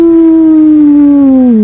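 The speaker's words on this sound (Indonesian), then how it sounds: "teriakan khas serigala menggema." A single long, loud wolf howl sound effect holds a steady pitch and then slides downward at the end, clean and close with nothing else around it.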